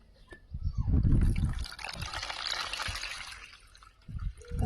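Cold water pouring into a lota meant for birds, a broad splashing, trickling rush that rises and holds for a few seconds, close by, with some low thumps and handling noise around it.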